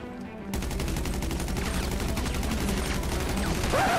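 Rapid machine gun fire erupts and keeps going, a dense fast rattle of shots, loud and continuous for several seconds in GTA V game audio.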